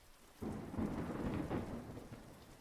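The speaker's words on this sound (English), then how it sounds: "what came next was the loudest boom of thunder ever recorded" A loud, deep boom of thunder bursts in suddenly after a quiet moment and rumbles on with a rain-like hiss.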